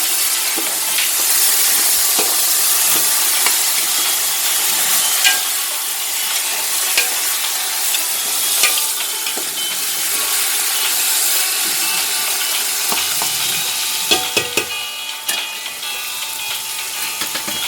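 Frozen paella ingredients, including seafood, crackle and sizzle steadily in a hot pan, a dense continuous frying hiss with scattered pops, close and alone.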